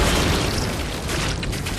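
A big explosion in the video game Warframe, a loud, sustained rumbling boom with heavy low-end that fills the whole moment without talk.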